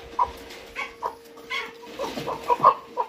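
A rooster with a crooked tail clucks in short, separate bursts, several close calls spaced across a few seconds with little else around.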